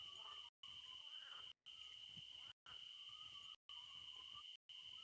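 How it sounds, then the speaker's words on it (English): Crickets chirr at night in the fishing game Fishing Planet, a thin, steady high trill that is quiet and constant, broken by short regular dropouts of silence. "the crickets are just part of the ambiance when you're fishing at night"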